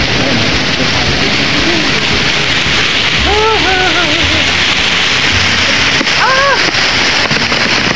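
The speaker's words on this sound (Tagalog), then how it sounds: "touchdown, Kipot Falls. Ang lakas ang tubig oh" Loud, steady roar of rushing water at Kipot Falls fills the scene, with a person's voice briefly speaking over the constant noise.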